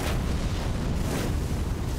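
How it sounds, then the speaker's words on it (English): A booming explosion follows a jump attack in the video game Dark Souls 3, a dense, sustained rumble filling the short clip at moderate loudness with no voices. "And that's the jump, with the explosion."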